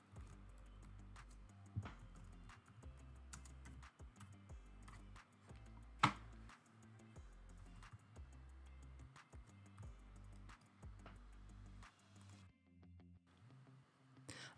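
Quiet, close typing on a computer keyboard, with irregular bursts of clicky keystrokes and brief pauses, including one sharper louder tap midway, while entering a business name for a lip gloss logo.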